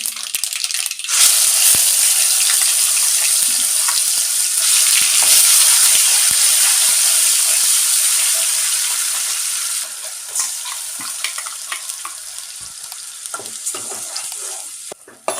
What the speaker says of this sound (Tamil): இப்போ நம்ம அரைச்சி வச்ச வெங்காய விழுதை சேர்த்துக்குவோம்